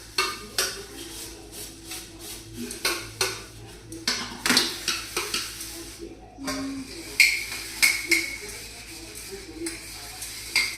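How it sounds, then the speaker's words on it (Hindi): Steel utensils, pots and pans clatter and clink in a steady rhythm of sharp knocks in a home kitchen, with water hissing underneath and a voice occasionally speaking over the washing. "तो बस फटाफट बर्तन साफ करेंगे"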